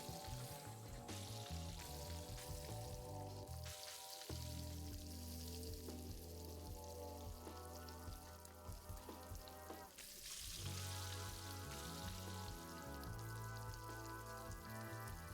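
Eggs sizzle in a frying pan in a video game, with a dense, steady crackle running throughout under layered droning game music, no voices.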